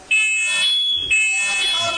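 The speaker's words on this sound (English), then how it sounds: "Incoming smoke alarm." A smoke alarm sounds nearby, two loud, shrill, sustained electronic beeps, each about a second long, one right after the other.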